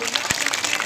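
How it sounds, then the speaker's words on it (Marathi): Crowd applause for the winners of a children's running race held for former MLA Dilip Mane's birthday, a brief burst of steady, dense clapping with a sharp knock near the middle. "टाळ्या जोरदार सगळ्यांनी"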